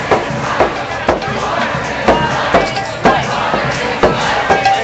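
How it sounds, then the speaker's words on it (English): A crowd of about 500 protesters against the Dakota Access Pipeline rallies outside a government office in San Francisco, loud and close, chanting in a rhythmic call-and-response with recurring shouted bursts roughly every half second to second. "We got a good crowd here today."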